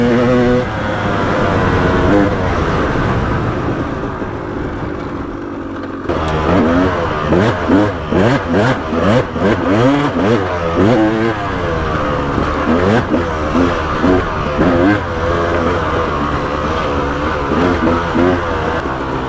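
A KTM 300XC two-stroke dirt bike engine revs hard and close, rising and falling in repeated bursts of throttle after a steadier idle-like drone, loud and raspy throughout.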